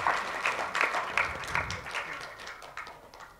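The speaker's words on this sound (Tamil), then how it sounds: "கைத்தட்டுங்க, சும்மா என்ன உட்காந்துருக்கீங்க" An audience at a public speech bursts into applause, a few loud waves of clapping that gradually thin out and fade.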